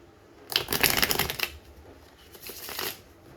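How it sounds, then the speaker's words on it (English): A tarot deck is riffled and shuffled up close: a burst of rapid crisp card flutters, a pause, then a second shorter shuffle, with no speech. "I'll go ahead and pull an additional card for you"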